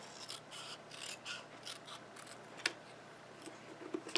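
Snips cutting paper cardstock for a flip fold card: soft rubbing, rasping cuts, then a couple of sharp close clicks from the blades, quiet and with no voices.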